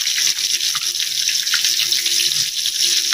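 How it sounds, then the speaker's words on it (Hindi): Koftas frying in hot oil, a steady close hiss and sizzle with a constant bright, crackly wash and no talking. "हमारे कोफ्ते फ्राई हो रहे हैं, जब फ्राई हो जाएंगे हम इसको अगले मसाले में डालेंगे।"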